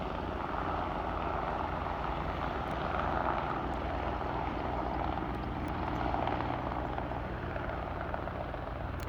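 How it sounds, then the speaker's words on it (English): An H175 helicopter at Aberdeen airport gives a steady, dense rotor-and-turbine roar that holds loud and unbroken throughout, with no voices. "I love the sound of the H175 helicopter"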